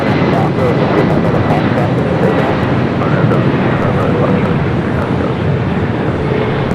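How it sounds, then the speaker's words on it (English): A Boeing 777-300ER airliner arriving from Hong Kong descends toward LAX runway 24 right, a continuous heavy engine drone heard close and loud, with a voice talking over it. "Flight 884 coming in from Hong Kong on this 777 at 300ER"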